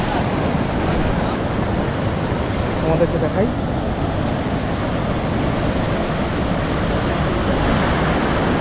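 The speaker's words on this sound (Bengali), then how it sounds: "দেখো আবার একটা ঢেউ আসছে" Rough sea at high tide at the Digha estuary, with waves surging in a continuous loud roar and wind buffeting the microphone while a person speaks briefly.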